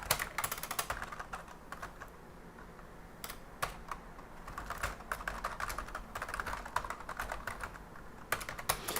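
Steady typing on a computer keyboard during Linux development work, quick irregular clacking keystrokes close to the microphone with brief pauses, no talking.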